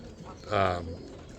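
A single low, throaty coo from a Rakovnik Roller pigeon rises briefly and fades, fairly close, against quiet background noise.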